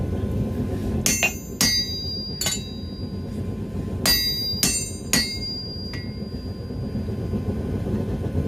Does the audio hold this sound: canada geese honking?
no